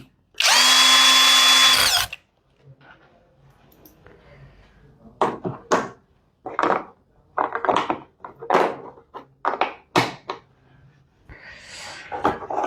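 A GearUP cordless brushless hand drill runs in one loud, steady whir for about two seconds, then stops; a run of irregular knocks and handling clatter follows, close by.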